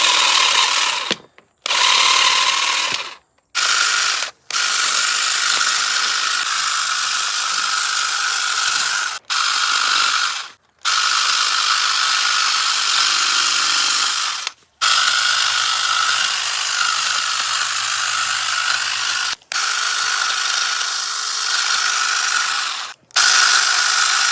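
A Sturmax GTM3720CR 20V cordless hedge trimmer cuts through an 8 mm branch, its motor buzzing loudly and close in repeated bursts broken by short pauses where it stops.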